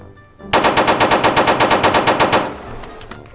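Rapid automatic gunfire in a Roblox shootout: a loud, even burst of about eighteen quick shots lasting around two seconds, then a short fading tail.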